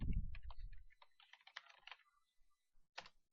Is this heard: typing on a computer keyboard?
yes